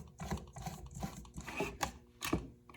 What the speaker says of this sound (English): So now I'm gonna screw in a bulb